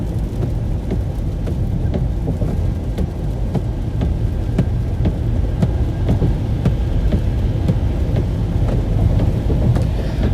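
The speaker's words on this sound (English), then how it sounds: "I hate driving in the fucking rain on the highway." Steady rain heard from inside a car on a highway: a constant wash of droplets and road rumble, moderately loud and unbroken throughout, with no voices.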